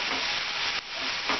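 Ginger garlic paste fries in oil in a pan with a dense, loud, steady hiss and sizzle, briefly dipping once, and no voices.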